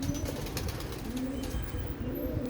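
A young Sialkoti pigeon beats its wings close by, with soft cooing tones and fluttering through the short, continuous stretch.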